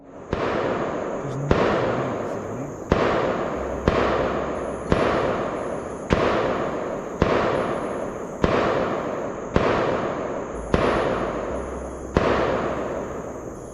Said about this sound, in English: Gunshots. Close. Way too close.